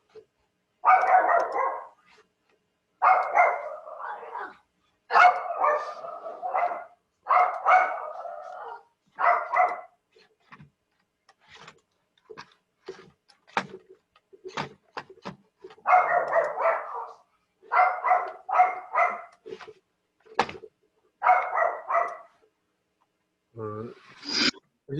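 A bad-tempered pet dog barks in repeated bursts of several sharp woofs, with quieter gaps between them where small clicks and taps are heard.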